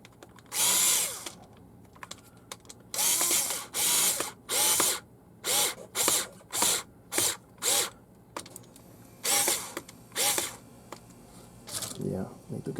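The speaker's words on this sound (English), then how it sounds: "I think I'm gonna have to use the other drill." A cordless drill drives screws while a water tank is mounted on a Silverado truck, with repeated short, loud whirring bursts separated by pauses, the speed and length of each burst varying.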